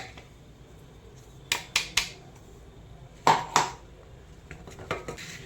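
Powdered flattened rice (avalakki) is sieved, producing two clusters of sharp, close metallic knocks and clinks followed by a few softer taps in an otherwise quiet kitchen.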